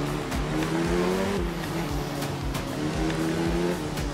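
A rally car roars continuously through a course in the racing game Art of Rally, its engine droning steadily loud with shifting revs and occasional sharp thumps that could be impacts.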